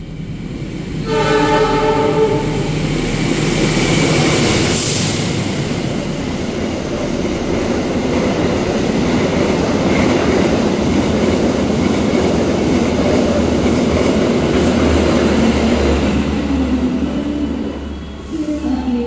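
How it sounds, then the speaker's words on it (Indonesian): The Argo Dwipangga express train roars through Kroya station at speed, a loud continuous rumble and rattle with a brief horn blast near the start, sustained until fading at the end. "Kereta Argo Dwi Pangga akan melesat di stasiun Kroya."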